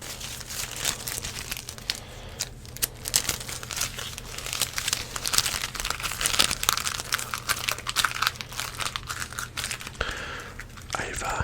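A roll of electrical tape is handled close up for ASMR, giving dense crinkling, crackling and sticky tearing sounds in quick irregular bursts that continue throughout, with a faint steady hum underneath.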